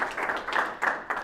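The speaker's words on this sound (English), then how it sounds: "Clap it up for him again, guys." A small audience claps in a short, rhythmic burst of hand claps, fairly close and clear with no talking over it.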